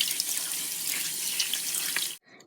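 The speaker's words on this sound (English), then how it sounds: "use some hot water to rinse them" Hot tap water runs steadily over mochi squishy toys in a strainer, a continuous close splashing rinse that cuts off abruptly near the end, leaving a few faint drips.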